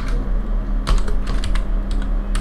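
Typing on a computer keyboard while entering text into an Excel worksheet: a quick run of close, crisp key clicks in small bursts over a low steady hum.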